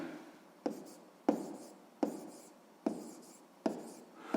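Pen strokes on paper while working out a math solution, close and distinct, with firm scratchy marks repeating in a steady rhythm roughly every two-thirds of a second.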